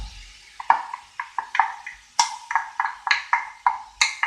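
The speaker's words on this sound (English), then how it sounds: "Give that a stir" Yellow and green peppers stirred in a pan, a series of light scraping clinks of a utensil against the pan in an irregular rhythm, close and fairly quiet with a faint sizzle underneath.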